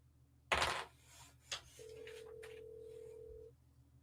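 An outgoing phone call rings back with one steady tone lasting nearly two seconds, following a couple of short handling knocks and clicks, with no voices over it.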